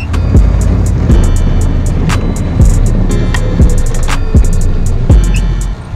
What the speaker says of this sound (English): We rode dirt bikes and we had fun